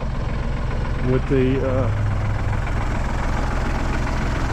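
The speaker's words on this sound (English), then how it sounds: "I'm using my New Holland TC33 tractor" A New Holland TC33 compact tractor idles with a steady low engine rumble and vibration, running continuously close by while someone briefly speaks over it.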